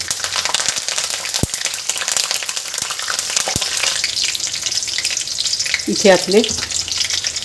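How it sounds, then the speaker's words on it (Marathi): Curry leaves and green chillies fry in hot oil for a vegetable dish made from ash gourd peel. The sizzle is continuous, with a couple of sharp clicks and a louder crackling burst near the end. A voice speaks briefly. "आणि इथे कढीपत्ता घालायचा आहे।"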